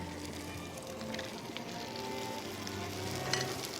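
Whole shell-on prawns with heads, garlic and chili sizzling in a pan for a Spanish dish, a soft, steady frying hiss with light crackle and a low kitchen hum beneath.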